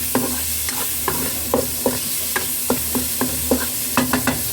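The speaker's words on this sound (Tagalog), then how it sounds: "Haluin ulit natin." A tofu mixture seasoned with salt and sugar is stirred in a hot pan, with repeated spatula scrapes and taps over a steady sizzle, close and clear, no voices.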